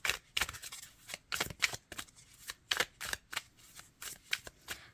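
Tarot cards shuffled and drawn from a deck, heard as a rapid run of crisp riffling and flicking bursts, close and fairly quiet, with no talking over them.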